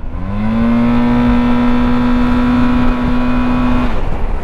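A Yamaha TMAX 560 scooter engine drones steadily while riding, a loud sustained tone that rises slightly in pitch at the start and then holds evenly before easing off near the end.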